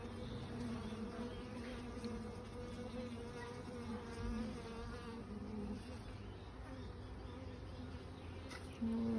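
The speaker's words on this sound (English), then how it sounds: "Don't squish them back, Scott. You're gonna squish bees." Honeybees hum in a steady, dense drone from an opened backyard hive being checked for hive beetles and wax moth, close and continuous, with faint talk and handling noise underneath.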